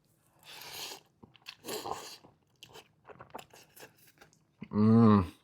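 Kimchi ramen with cheese and egg is bitten and chewed with metal chopsticks, giving close, crunchy, wet chewing bursts and small clicks. A brief voiced murmur or hum comes at the end.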